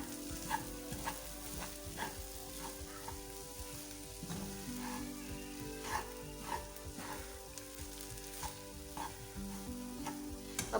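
Semolina halwa is stirred in a pot after the heat is turned off, repeated scraping strokes of a spoon against the pot in a steady rhythm over a soft background hiss, close and fairly quiet.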